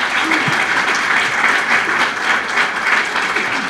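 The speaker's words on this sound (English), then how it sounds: "We'll give them a round of applause for coming up here today" An audience applauds political candidates at a meet-the-candidate event, a dense, steady clapping that fills the whole stretch, loud and close.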